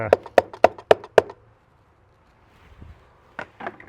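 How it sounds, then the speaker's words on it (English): A dry dredge filter is knocked hard to shake out dirt while gold prospecting in Utah: five sharp, evenly spaced hollow knocks close up, a pause, then a few softer taps. "I pull my filter out, and I knock the heck out of it"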